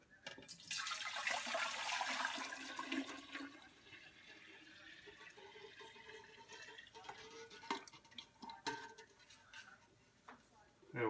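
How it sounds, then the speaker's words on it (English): Cooled tea poured into a jar for home-brewed kombucha, a loud gushing splash for the first few seconds that settles into quieter trickles and clinks, with a faint voice underneath. "So let's pour that in here first."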